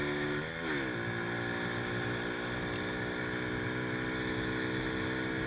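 Boom Vader 125cc motorcycle running at steady high speed on a highway, its engine a loud continuous drone with one brief pitch dip early on, heavy wind rush over the microphone throughout.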